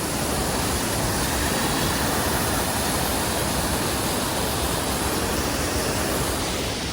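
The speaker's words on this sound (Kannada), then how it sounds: "ಫುಲ್ ಸೌಂಡ್ ಜಾಸ್ತಿ ಇದೆ ವಾಟರ್ ಫಾಲ್ಸ್ದು" Water pours over a weir below Mayasandra lake, a loud, dense and unbroken roar from close by that stays constant throughout with no voices.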